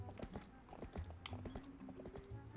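Horse hooves clip-clop in The Legend of Zelda: Twilight Princess HD video game, a quick, uneven patter of soft clops at low level, with no talk over them.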